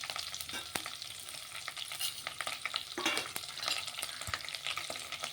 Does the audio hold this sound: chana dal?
yes